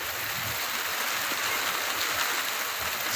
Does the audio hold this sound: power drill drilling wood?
no